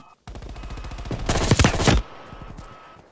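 Loud, rapid automatic gunfire from Call of Duty: Black Ops Cold War, an M16 among the weapons, rattles in a dense burst of close shots for about two seconds and then cuts off. A few fainter shots follow.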